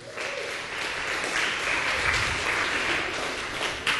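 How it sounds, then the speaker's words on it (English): A comedy showcase audience at UMD applauds continuously, a dense wash of clapping that stays fairly even in loudness from start to finish. "give yourselves a big round of applause"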